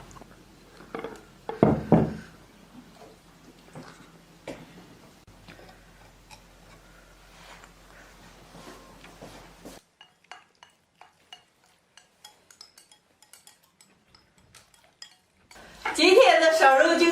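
Steamed pork belly turned out of bowls onto plates: scattered ceramic clinks and knocks, a heavier clatter early on, then sparse ticks before a loud burst of dish noise at the end.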